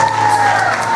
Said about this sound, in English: Give her a big round of applause as she makes her way.